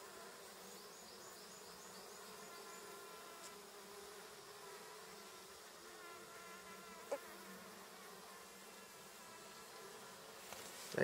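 A honeybee swarm nesting in a tree stump hums in a continuous dense buzz, steady and close throughout, with a few faint clicks and no voices.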